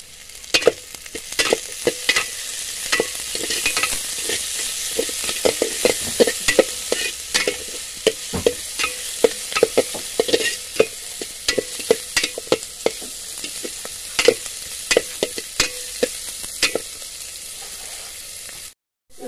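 Chapa shutki curry stirred with salt, turmeric and coriander leaves, loud rapid clinks and scrapes of a spoon against the pot over a soft sizzle, continuing steadily before stopping abruptly.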